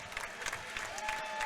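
Applause for a retiring steward at an ice hockey final at the Skydome, a faint, distant patter of clapping from an arena crowd with a low murmur underneath.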